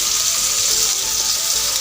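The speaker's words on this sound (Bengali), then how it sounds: "মাছগুলো লবণ হলুদ মেখে নিয়ে আমি ব্রাউন কালার করে ভেজে নিব।" Rohu fish pieces rubbed with salt and turmeric fry in hot oil, a loud, dense and continuous sizzle heard close up with no voices.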